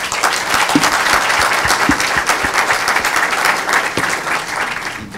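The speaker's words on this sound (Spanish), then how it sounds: "Les pido un aplauso para los tres." An audience at an academic event on monetary policy in Peru applauds three speakers, a loud continuous wash of many hands clapping that holds steady throughout, with a few sharper claps standing out.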